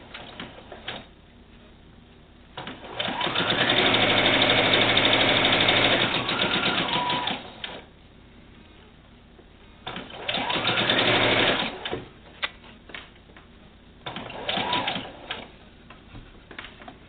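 A home sewing machine stitching across the lump of a mitered border corner on a quilt: three runs of steady, rapid mechanical whirring, one long and two shorter, with quiet gaps between them.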